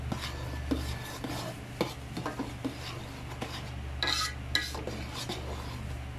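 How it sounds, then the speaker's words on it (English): A taro powder mixture for chocolate ube champorado is stirred in a pot. Soft, irregular scraping and clinking of a utensil against the vessel sounds over a low steady hum, quiet and close. "Mix well until all powders are dissolved."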